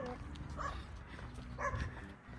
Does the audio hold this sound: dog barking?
yes